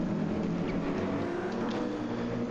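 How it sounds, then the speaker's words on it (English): A Ferrari race car engine drones steadily from a distance on the Yas Marina circuit during a 16-hour endurance race, a continuous low roar with no sharp pass-by. "we can hear the Ferrari in the distance"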